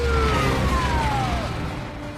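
A police siren sounds in a film scene with a wailing tone sliding downward, heard over a low rumbling engine bed, loud and close for a couple of seconds before fading slightly; no talking.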